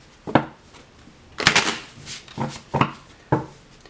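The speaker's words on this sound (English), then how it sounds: "Give them a bit of a shuffle just to freshen them up a bit." A handful of quick papery riffles and soft taps of tarot cards being shuffled and squared on a table, close by, in short separate bursts with quiet gaps.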